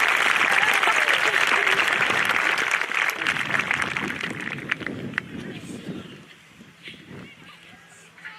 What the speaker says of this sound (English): Please join me in a round of applause for Mr.